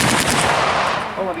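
Gunfire at a World War II battle re-enactment in a field, with German mortar troops firing, dense loud bursts rolling together in rapid succession.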